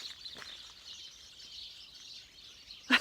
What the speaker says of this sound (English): Do you hear this bird song? They're all here in the hedge, you see.